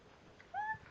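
A person imitates a cat's meow with a short, rising and falling voiced call heard clearly near the middle against a quiet room background.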